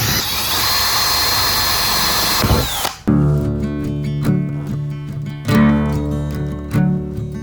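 A power drill grinds harshly, stops abruptly, then restarts with a high whine that rises and dips in several bursts as it drills out metal rivets in an Airstream trailer interior.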